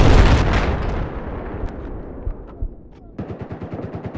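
Rapid gunfire in Battlefield 4 during a 32-player mixed-mode Domination match on Zavod 311, likely from an AK-5C: a loud, dense burst at first, then quieter scattered shots, ending in a quick regular string of sharp reports.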